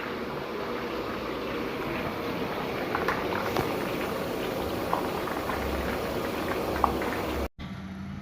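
Sev, a Gujarati fried snack, frying in hot oil with a continuous dense sizzle and bubbling, loud and close, running steadily until a brief cut near the end.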